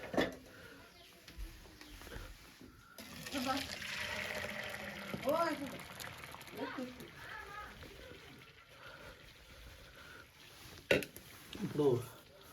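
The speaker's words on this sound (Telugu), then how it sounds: "ఇప్పుడు మనం వార్చుకోవాలి. ఇది వార్చుకుందాం ఇప్పుడు." Water poured off boiled vermicelli for semiya pulihora in a home kitchen, with a splashing, gushing rush in the middle that fades out, and talking over and around it.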